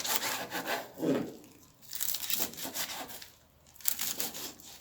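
Knife slicing vegetables into long strips on a board, a few rasping strokes close by and fairly quiet.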